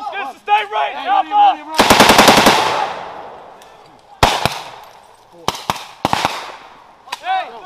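Gunfire during an army training exercise with attack helicopters: a long burst of rapid automatic fire followed by several sharp single and double shots, loud and close, with soldiers shouting between the bursts.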